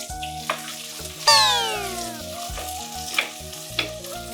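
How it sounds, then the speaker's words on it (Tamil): Onions dropped into hot oil with popped mustard seeds and dried red chillies, a close sizzle and crackle with a few sharp stirring clinks and a tonal whine over it. "நல்லா செவந்ததையும் வெங்காயம் போடுறேன்."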